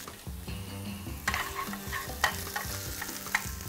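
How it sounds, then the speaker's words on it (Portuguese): Garlic browning in hot oil in a pan, a steady close sizzle with intermittent stirring clicks and scrapes over a low background hum, no voices. "meu óleo tá quente, meu alho tá dourando"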